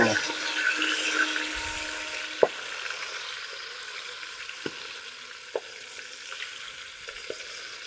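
Hot oil crackles and hisses steadily while frying, broken by a few sharp pops and spits spaced several seconds apart, close by with no talking.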